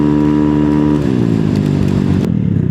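A motorcycle engine running at steady idle close by, a loud, even throbbing drone that shifts pitch slightly partway through, with a brief clack near the end.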